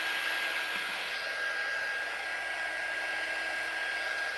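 A hair dryer blows steadily on wet paint, giving a continuous, close, even whoosh with a faint whine and no talking.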